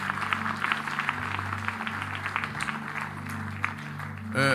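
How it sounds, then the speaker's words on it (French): A church congregation applauds, a steady wash of many hands clapping at moderate distance, with music playing underneath throughout. "On applaudit mon Dieu."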